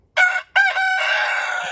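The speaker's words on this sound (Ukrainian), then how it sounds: "чому півень кукурікає?" A rooster crows loudly and close by: a short opening burst, a brief pause, then a long drawn-out call.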